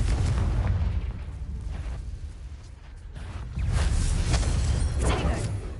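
The Confringo explosion spell goes off in Hogwarts Legacy on PS5, with booming bursts and crackling blasts over a rumbling game background, the loudest hits arriving in the latter half.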